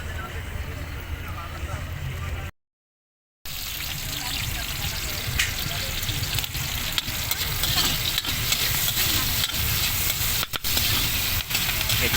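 Pork steak frying with onions in a pan, a steady broadband sizzle with scattered clicks and stirring scrapes, briefly cutting out near the start before resuming at full strength.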